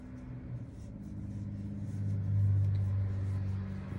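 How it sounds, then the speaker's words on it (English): A big old car driving past outside, a low engine rumble that slowly swells to a peak near the middle and eases off, heard from indoors at moderate distance. "A big old car just went by."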